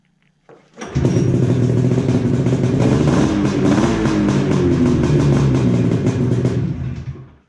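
A Polaris XC 700 snowmobile engine cranks briefly, then catches and roars to life, running loud and steady with revving before cutting off near the end.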